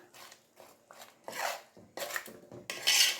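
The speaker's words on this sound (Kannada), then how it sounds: "ಚೆನ್ನಾಗಿ ಮಿಕ್ಸ್ ಮಾಡ್ಕೊಂಬಿಡೋಣ ಇದನ್ನು" Rice kadubu dough stirred in a bowl, with scraping and clinking of a utensil against the bowl in several uneven strokes, close and moderately loud, without talk.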